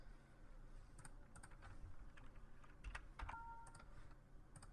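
Quiet, close keystrokes on a computer keyboard, a run of light irregular taps and clicks in bursts over a low background hum, with no one speaking.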